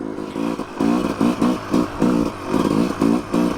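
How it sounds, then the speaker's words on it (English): Yamaha YZ250 two-stroke dirt bike on a trail ride, its engine revving in rapid repeated bursts, loud and close with a rasping, pulsing tone and brief dips between throttle blips. "on the YZ250"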